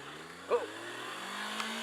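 Ridden 2018 Kawasaki Versys X 300 motorcycle engine revving hard, rising pitch climbing steadily under wind noise, with a brief vocal sound early on.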